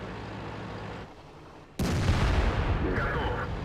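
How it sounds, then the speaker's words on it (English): Cannon shot from an IS-8 heavy tank in a tank battle video game: one loud, broadband blast bursting in sharply after a quieter stretch of background rumble, with its heavy report carrying on to the end. "that right there is the only damaging shot the IS-8 fires in the whole battle"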